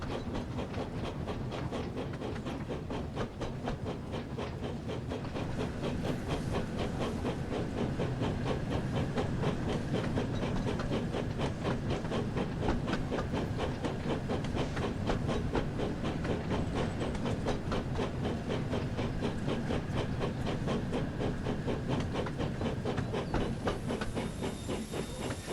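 A train rolls continuously in a Thomas & Friends video game, a dense rhythmic clatter of wheels with a steady hiss and rumble that stays loud and even throughout, with no talk.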